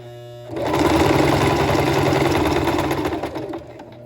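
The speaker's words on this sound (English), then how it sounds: "continue forward stitching" A home sewing machine forward-stitches along the edge of fabric, its motor whirring in a steady, close, even hum for about three seconds before slowing to a stop, with no talking.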